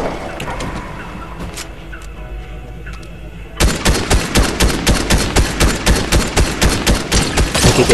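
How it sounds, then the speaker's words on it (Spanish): Gunfire aimed at the player in Fortnite, starting with a few scattered distant shots and then breaking into a loud, rapid, evenly spaced burst of automatic fire. "Y aquí ya nos está disparando."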